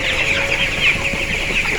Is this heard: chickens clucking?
yes